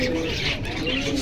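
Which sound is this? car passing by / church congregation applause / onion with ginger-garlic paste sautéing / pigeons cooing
pigeons cooing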